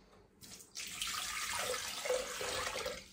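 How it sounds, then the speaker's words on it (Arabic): Tap water gushes steadily into a Thermomix bowl to rinse off leftover dough, a close, continuous splashing rush that starts abruptly and runs on with no voices. "دابا انا غادي ندير فيه الماء"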